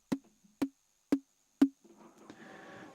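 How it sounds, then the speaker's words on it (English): Synthesized white-noise bursts with a short envelope release: four sharp, evenly spaced percussive hits about half a second apart, each cutting off quickly, followed by a softer, hissing wash of noise. "So I'm going to use white noise here."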